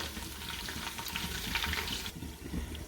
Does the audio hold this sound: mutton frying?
yes